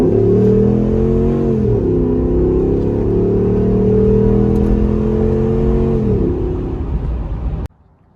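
A modified car engine revs loudly while driving, a steady throaty roar with rising and falling harmonics as it climbs through two gear shifts before cutting off abruptly near the end; no talking.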